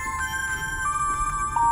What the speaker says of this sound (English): This is my old cell phone. The one I got rid of a few weeks ago. And it's ringing.